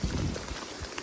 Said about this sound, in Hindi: कल रात से मतलब कि चालू ही है बारिश, रुकी नहीं है।